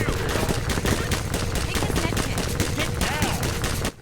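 Rapid automatic gunfire in the video game Half-Life 2, a dense, loud burst of repeated shots that hammers on for several seconds before cutting off abruptly.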